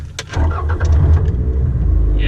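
A Toyota MR2 with a loud exhaust cranks and fires up, quickly settling into a deep, rumbling idle close by.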